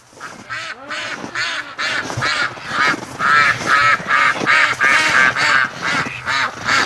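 Ducks in a barn, a loud, close chorus of rapid, overlapping quacks that builds into a continuous noisy flock clamor.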